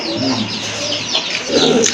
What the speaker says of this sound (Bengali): মাশাআল্লাহ অনেক সুন্দর একটা কবুতর